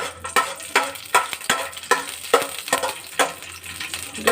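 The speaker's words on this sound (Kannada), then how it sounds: "ಡ್ರೈ ಫ್ರೂಟ್ಸನ್ನು, ಗೋಡಂಬಿ ಮತ್ತು ದ್ರಾಕ್ಷಿಯನ್ನು ಸ್ವಲ್ಪ ಫ್ರೈ ಮಾಡ್ಕೊಳ್ಳಿ" Cashews and raisins fry in ghee for carrot halwa, a close steady sizzle broken by regular stirring scrapes about twice a second, with no talking.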